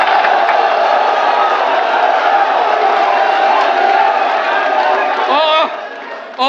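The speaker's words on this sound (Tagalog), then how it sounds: "Grabe, crowd reaction yun, ha?" Loud, dense crowd roar and cheering at a FlipTop rap battle, sustained and steady with shouts throughout, then thinning slightly near the end before a final burst.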